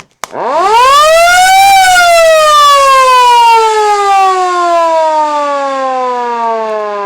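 Small Secomak SO3 public warning air raid siren spins up into a loud, piercing wail that climbs in pitch, then slowly winds down while still sounding, heard very close and alone.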